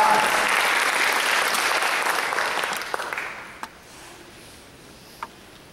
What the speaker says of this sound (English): Just a round of applause for what He has